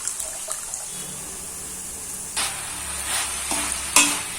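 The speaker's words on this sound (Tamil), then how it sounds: "வாழைப்பூ எண்ணெயில் கொஞ்சம் நல்லா வணங்கினாதான் குழம்பு டேஸ்டாக இருக்கும்." Chopped banana flower stir-fried in hot oil in a pan for a Tamil curry, a steady soft sizzle with a few louder scraping stirs of a spoon toward the end, close and alone.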